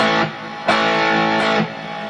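Electric guitar rhythm chords through a Joyo DC-15S rechargeable amplifier with reverb and added gain, loud and bright, strummed in a few sustained hits with ringing decay, no talk.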